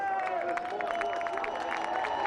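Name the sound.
race fans cheering at Champ Car race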